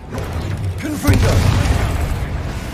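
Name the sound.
Confringo explosive spell cast in video game Hogwarts Legacy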